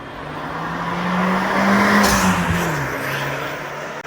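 An Abarth Punto Evo's engine growls as it accelerates, then its dump valve lets out a loud rushing whoosh as the revs drop, heard close from inside the car with no talking.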